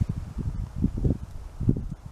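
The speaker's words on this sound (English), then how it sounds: "That's really gusting." Wind buffets the microphone in uneven low rumbling gusts, rising and falling over a couple of seconds, at a long-range rifle shooting range.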